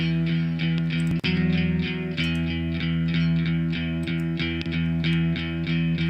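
An electric guitar plays a rhythmic, repeating pattern of chords through a reverb effect, each strum ringing on into a smooth, sustained wash, with no voices.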